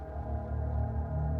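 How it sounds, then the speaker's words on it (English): A Cursed Clavinets preset plays a dark vibrating tone, a low, dense, droning sustained sound with a subtle pulsing flutter, steady and alone. "One was the Dark Creation, which is just a dark vibrating tone,"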